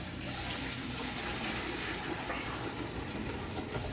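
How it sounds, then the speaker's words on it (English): Homemade stock poured back into a cooking pot for hambone stew, a steady continuous gush of liquid lasting several seconds, close and fairly loud with no talking. "pour this wonderful"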